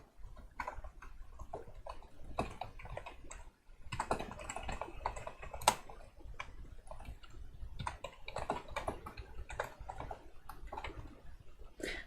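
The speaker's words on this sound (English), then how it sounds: "I can type my message here." A computer keyboard is typed on in quick, irregular bursts of soft clicks and taps, close and fairly quiet, with short pauses between runs of keystrokes.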